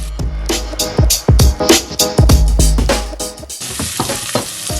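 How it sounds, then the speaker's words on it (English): Onions and garlic sizzling in a pan, heard close and loud, with repeated scraping and clacking as the utensil stirs them, and a steady hiss of frying beneath. "make sure you keep on mixing the onions so you're cooking them evenly"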